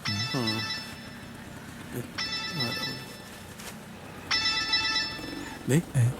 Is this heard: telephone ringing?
yes